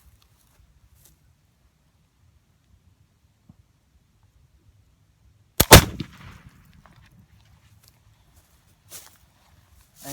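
A flintlock muzzleloader fires once after a quiet wait, a single sharp loud crack followed by a short decaying rumble, with faint rustling and small handling sounds around it.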